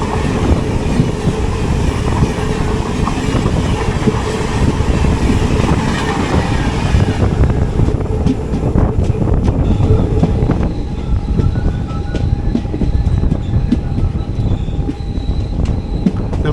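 A WAP-7 electric locomotive hauled Wayanad Express train rolls into Kollam Junction, its loud continuous rumble and wheel noise steady throughout, easing to a lighter rattling with faint squeals as it slows into the station.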